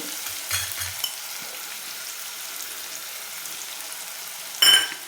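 Finely chopped onion, about a full bowl, sautés in a pan for a Maharashtrian besan vadi curry, giving a faint, steady sizzle with a few soft knocks of stirring near the start and a brief louder scrape near the end.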